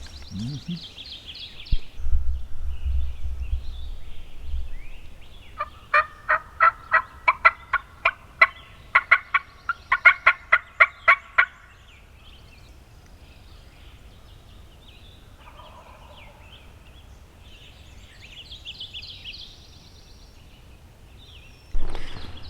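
Wild turkeys gobble on an Arkansas morning, a rapid run of about a dozen rattling gobbles sounding at moderate distance, with quieter bird calls and rustling before and after and a brief louder gobble at the end.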